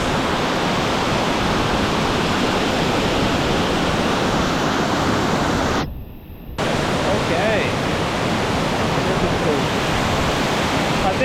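A waterfall throws off spray and mist in a loud, steady roar of rushing water heard up close, with a brief dip in the middle.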